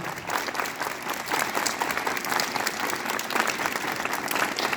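Students at a school assembly clap together in a steady, continuous burst of applause that lasts the whole stretch, with many hands sounding at once and nearby.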